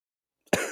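A single short cough from a podcast host with a head cold, sharp and close after a moment of silence, trailing off briefly.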